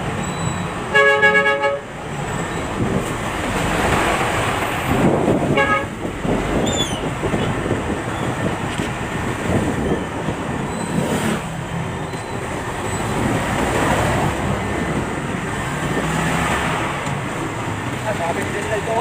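Heavy road traffic in Tibungco-Ilang-Panacan, Davao City rumbles along with horns tooting, including a sharp honk near the start and another around the middle, while people talk nearby over the engine noise.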